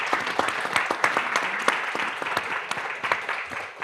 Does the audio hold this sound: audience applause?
yes